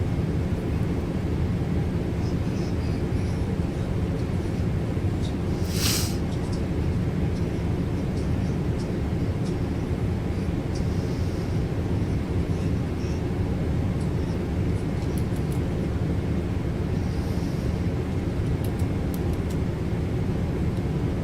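Heavy airliner slowly climbing toward flight level 400 in a flight simulator game, a steady, continuous low engine and cockpit drone with faint, brief clicks over it.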